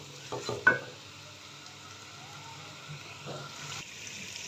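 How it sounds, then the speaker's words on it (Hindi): Potatoes and spinach fry in a pan with a soft, low sizzle, and a few clattering stirs near the start fade into quieter steady frying. "अभी इन दोनों चीज़ों को हम अच्छे से भून लेंगे"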